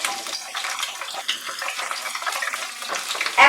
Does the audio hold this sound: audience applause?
no